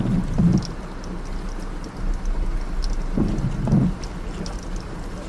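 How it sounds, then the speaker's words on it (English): Heavy rain during a severe thunderstorm over Regina, Saskatchewan, a steady downpour with a few low rumbles of thunder rising and fading amid the rain. "Severe thunderstorms swept across southern Saskatchewan on Saturday with heavy rain that flooded parts of Regina"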